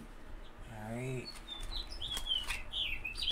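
Birds chirp outside a window in a run of high, quick tweets and calls, moderately close, following a brief pigeon-like coo.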